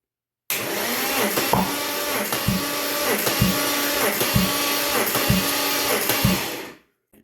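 A BMW S62 V8 swapped into an E46 is cranked for a cylinder compression test, giving a steady starter whir with even pulsing thumps about twice per second for six seconds before stopping.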